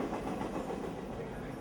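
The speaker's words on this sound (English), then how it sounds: "the many trains that pass by just feet from the window will remind you." A train rolls past just feet from the window of a cafe in an old train depot, a steady close rumble with faint rail clatter running the whole time.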